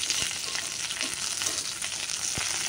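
Hilsa fish tail frying in oil with onions and chillies, a dense, even hiss and crackle of sizzling close by, with a couple of faint utensil knocks and no voices.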